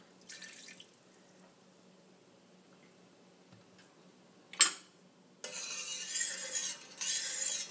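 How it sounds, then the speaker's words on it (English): Coconut milk is poured into a hot pan of mussels over medium-high heat, with a single wet drip and then a steady hissing sizzle that swells and holds for a few seconds. "And we'll add in just a splash of coconut milk."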